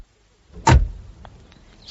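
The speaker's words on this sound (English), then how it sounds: "A lovely sound, that door." A car door slams shut once, a single loud close thud followed by faint rattles and quieter background sounds, with no talk.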